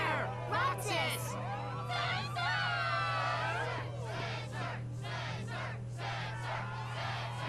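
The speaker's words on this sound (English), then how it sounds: "Yes, the crowd is fired up" A crowd cheers and yells at a struggle tournament in the video game Kingdom Hearts II, a swelling wall of excited voices with sharp shouts rising above it, fairly loud and continuous over a low steady hum.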